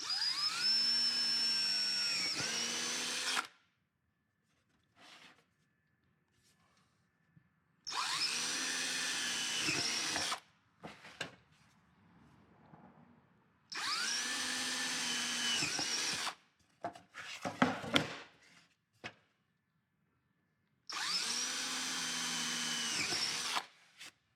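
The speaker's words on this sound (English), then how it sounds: "I'm going to drill 4 holes right straight in." A power drill runs in four separate bursts of a few seconds each, drilling holes with a countersink bit, whining loudly and steadily, with quiet gaps and some light handling noise between them.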